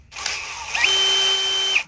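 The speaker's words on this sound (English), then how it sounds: "I got the drill set in the lowest setting because if you get too high, this is a 60-volt drill" A 60-volt power drill on its lowest setting drives a fastener into sheet metal wall panels. It gives one close, steady whir that lasts about a second, with a brief ratcheting catch near the start and at the end.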